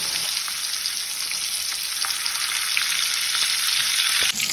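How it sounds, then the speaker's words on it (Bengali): Fish sizzles steadily in hot oil in a frying pan, a loud, continuous crackling hiss that holds evenly throughout with no talking. "মাছ ভাজা শুরু হলো।"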